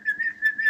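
A human voice imitates the high whistling snore made when air squeezes through a narrowed airway, giving three short pulsing whistles in quick succession, close and clear.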